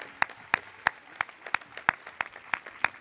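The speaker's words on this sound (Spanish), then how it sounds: "un forte aplauso para Ana" Sparse, evenly spaced claps for Ana, a seven-year-old singer at a children's singing contest, about nine sharp hand strikes in steady rhythm, close and clear with no voices.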